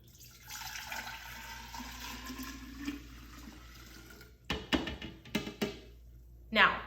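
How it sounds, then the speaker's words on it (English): Freshly brewed tea poured into a kombucha jar, a steady splashing and trickling stream for several seconds that ends in a few short clinks and taps. "So pour your new tea."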